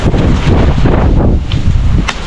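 Strong typhoon wind gusts, a loud, close, buffeting roar that batters the microphone continuously for a couple of seconds.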